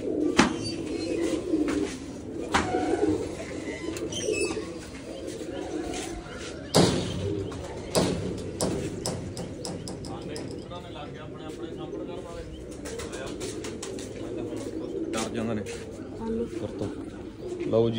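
Low, repeated cooing from breeding pigeons in their loft boxes continues throughout, mixed with occasional sharp knocks and slams and someone talking nearby.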